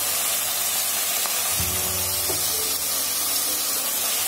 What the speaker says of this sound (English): I'm going to add the tomato now.